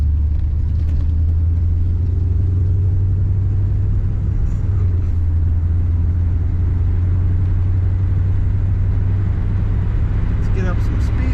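A 1956 Cadillac Coupe DeVille cruising on a dry Minnesota road in winter, a continuous low engine rumble and road noise from inside the car, with light clicks near the end.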